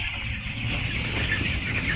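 Poultry chickens cluck softly in a coop while water pots are set out for vaccination, a continuous low murmur of clucks with no voices.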